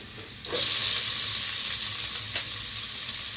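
Onion, carrot and green pepper frying in hot oil, a loud steady sizzle that surges as the vegetables hit the pan and continues with faint stirring, close by and without talk.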